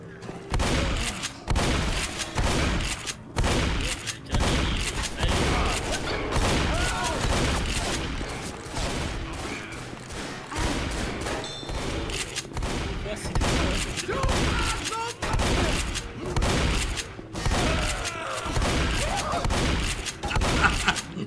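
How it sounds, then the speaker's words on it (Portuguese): Left 4 Dead gunfire with infinite ammo, loud rapid volleys of shots repeating in bursts throughout with thuds and booms, while players talk over the shooting. "Por que o Rafa fica atirando no parceiro, velho?"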